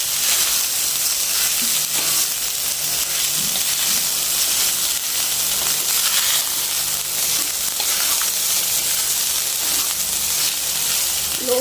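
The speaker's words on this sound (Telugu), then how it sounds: "లో ఫ్లేమ్లో వేసుకొని మిక్సింగ్ చేసుకోండి" Cooked rice for pulihora being stir-fried and mixed in a pan over a low flame, giving a steady soft sizzle with faint scraping and stirring throughout, no voices.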